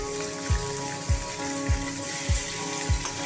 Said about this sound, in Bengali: কড়াইটা গরম করে মাছগুলো দিয়ে দিলাম।